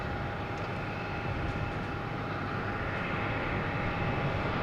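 A Delta Airbus A321neo at Boston Logan Airport produces a steady, broad jet engine roar at moderate distance, with a thin constant whine running through it.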